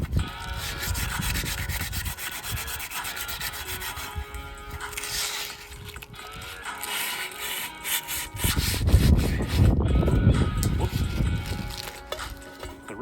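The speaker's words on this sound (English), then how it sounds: "There's one more piece of 60 grit. Yep, 60. It's already pretty worn." A wooden shovel handle is rubbed by hand with worn 60-grit sandpaper, giving continuous, close scratchy strokes that grow heavier and louder near the end.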